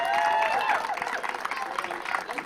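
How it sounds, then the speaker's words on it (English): A Little League baseball crowd at a Scripps AA World Series game applauds and cheers for the Marlins and White Sox, a dense wash of clapping and voices that starts strong and gradually thins over a couple of seconds. "let's give a big round of applause to both the Marlins and the White Sox"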